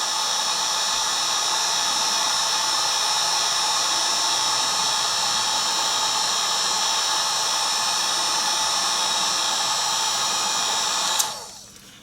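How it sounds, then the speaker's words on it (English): Heat gun blowing hot air to shrink heat-shrink tubing over a soldered wire joint, a steady loud whooshing roar that keeps on without change and then cuts off near the end. "Take a second for this heat gun to warm up."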